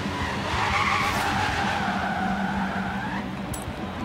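A drift car doing a burnout, tires screeching in a long sustained squeal over a roaring engine, loud and close, the squeal holding steady before tapering off near the end, with no talk.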